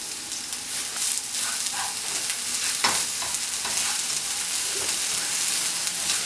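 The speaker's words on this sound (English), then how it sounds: "Then you can use the leftover oil and add your chopped onions. And just cook them with some salt until they're a little bit translucent and fragrant." Chopped onions fry in leftover oil with salt for a Spanish potato tortilla, a continuous close sizzle and crackle, with soft stirring scrapes throughout and no talking.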